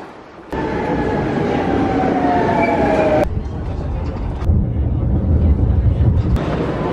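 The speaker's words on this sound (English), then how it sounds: "I'm at the train station." A train rumbles steadily nearby at a train station in Spain, with a long squealing whine fading out, then continued rolling noise with faint clicks; a voice talks briefly.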